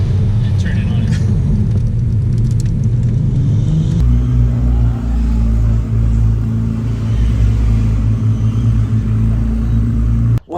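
A car driven hard around a cone course, its engine a steady, loud low rumble that shifts in tone partway through, heard close from inside the cabin with faint muffled voices.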